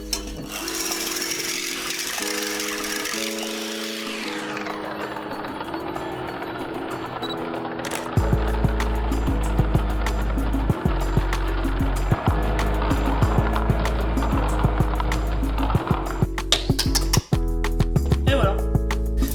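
Electric mixer whipping 20 cl of cream in a frozen salad bowl, a loud continuous whir after a stretch of talking, with the beaters rattling against the bowl at close range.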